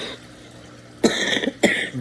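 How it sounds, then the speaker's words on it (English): Two harsh coughs close to the microphone, the first longer and rasping, the second short, after a moment of near silence. "I've got a bad cough."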